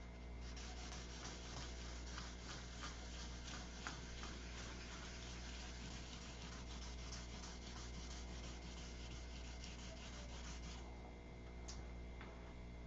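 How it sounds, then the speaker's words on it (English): Steady, continuous sandpaper rubbing on an airplane's painted surface, close and even throughout, with a constant low hum beneath and no talking. "Sand till it's gone."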